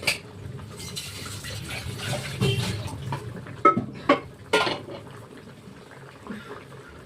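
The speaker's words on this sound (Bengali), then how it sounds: "আলুটা একবার গলে গেছে, বেশি ফুটানো যাবে না বুঝেছো, একটুখানি ফুটিয়ে ঢেলে দেবো" Potato curry bubbling in a pot on the stove, a steady low boil with soft burbling throughout and a few sharper clinks or pops near the end, no talking.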